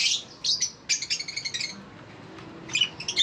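Small aviary birds chirp and tweet in quick bright bursts, fairly close, with short pauses between clusters of calls and a soft background hum.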